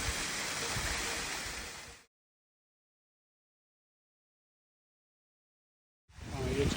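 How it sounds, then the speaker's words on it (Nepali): Steady roar of rushing water from the Tuk Tuk waterfall above Lukla in Sagarmatha National Park, loud and continuous, cut off by a long silent gap before the roar returns. "टोकटोक झर्ना माथिबाट यहाँबाट अझै माथिबाट छ है"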